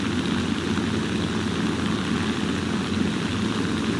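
A plane engine in the video game War Thunder drones steadily and loudly throughout, with no talk.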